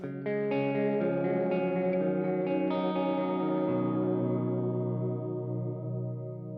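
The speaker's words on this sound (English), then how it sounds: "You hear it like really deep and slow, very chorusy." Bass played through a Walrus Audio Bellwether delay pedal with the rate maxed, giving a deep, slow chorus-like modulation, the tone swirling and wavering as each sustained note rings out, with no talking.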